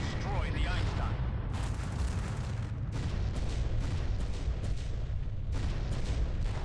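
Science vessel Einstein blown up in the space combat game Descent: Freespace, a dense, continuous roar of rumbling blasts and gunfire-like bursts that holds loud throughout, with voices talking over it.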